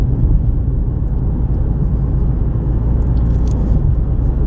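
Steady interior road rumble from a car cruising a rural stretch of White Lake Road in Michigan countryside, a constant low drone of tires and engine with no talk.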